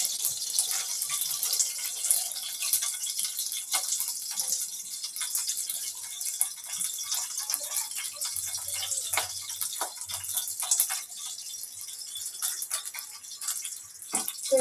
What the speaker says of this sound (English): So you can say it's dipped in the oil and it will get fried, it will get shallow fried or roasted in simmer